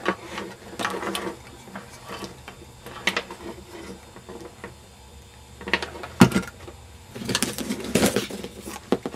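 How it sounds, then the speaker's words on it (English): An old telephone hand crank generator turns with an irregular ratcheting, gear-whirring clatter in bursts, moderately close, with a faint birdlike coo in the background. "It's a hand crank generator, probably from an old telephone set or something like that."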